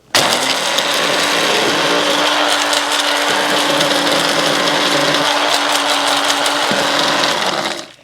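A food processor packed full of broken-up dried giant zucchini grinds it into flour with a loud, steady mechanical whir and rattle that runs unbroken for about seven seconds, then stops.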